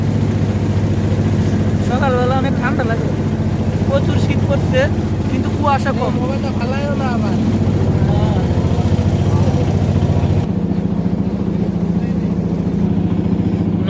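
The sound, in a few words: engine of a motor boat on a river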